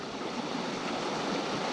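Steady turbulent rush of white water on a small Nevada stream pouring into a little man-made pool, even and close, with no talk.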